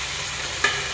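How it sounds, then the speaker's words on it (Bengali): Pangas fish frying in a pan, a continuous close hiss of hot oil with a single brief clink partway through. "তো এখন পাঙ্গাস মাছটাকে ভেজে দিলাম।"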